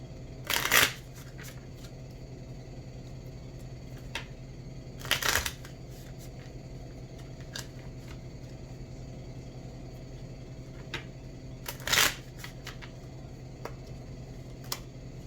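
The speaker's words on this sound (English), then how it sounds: "I'm going to pull a few Island Time Wellness cards." Oracle cards are shuffled in three short, crisp riffling bursts spread across a quiet room with a low steady hum, and a few faint ticks fall between them.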